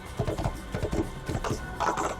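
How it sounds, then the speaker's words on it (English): A short run of horse hooves clip-clopping at a walking rhythm in Assassin's Creed, close and fairly loud. "On my awkward looking horse over here."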